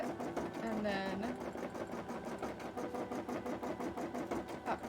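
A sewing machine stitching a cosplay piece runs steadily and close by, a fast even mechanical chatter that lasts the whole stretch, with a short squeak partway through.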